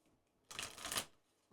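Tarot and oracle cards shuffled by hand in a half-second burst of rapid, crisp riffling flutter, close and fairly loud, then quiet.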